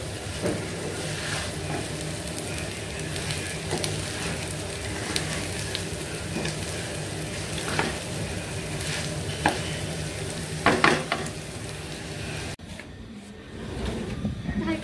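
Pulao rice frying in a pan at a home cooking session: a steady, close sizzle with scattered stirring scrapes, dropping away briefly near the end, with some voices faintly in the background.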